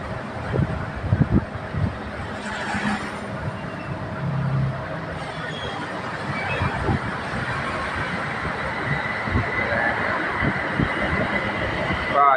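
A BTS Silom line skytrain rolling along platform 3 at Saphan Taksin station: a loud, steady rumble of wheels and motors throughout, with faint clatter and some voices in the background.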